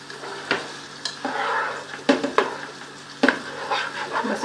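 An egg fries in hot oil with onions for Chinese-style chicken vegetable rice, giving a steady close sizzle broken by sharp spatula knocks and scrapes against the pan at irregular moments.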